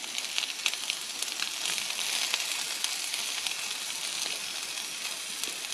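Shredded, already-cooked chicken crisps in bacon grease in a pan, giving a soft, continuous crackling sizzle at low volume with scattered pops.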